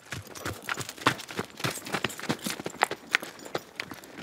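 A Murgese horse's hooves clip-clop in a steady, brisk rhythm of sharp, distinct strikes, close and clear with no talking.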